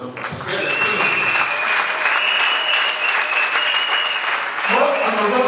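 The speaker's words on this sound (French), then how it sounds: "Il faut applaudir très fort votre président" Crowd at a political rally in Grand-Bassam, Côte d'Ivoire, applauding loudly for their president; sustained dense clapping with cheers runs throughout, swelling slightly near the end.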